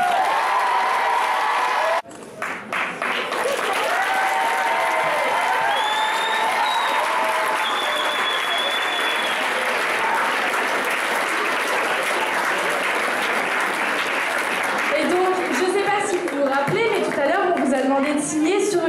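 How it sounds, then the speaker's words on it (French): A crowd at a slam poetry event applauds loudly and steadily, with cheers and whoops rising over the clapping, a dense roar close by throughout and voices calling out toward the end. "Vous pouvez faire du bruit et vous applaudir très fort."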